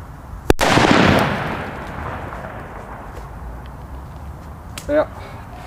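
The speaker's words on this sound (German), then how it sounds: "Jetzt eine China Böller D." A Chinese firecracker bursts with one sharp, loud bang, its crackling blast decaying over about a second, followed by open-air quiet and a brief voice near the end.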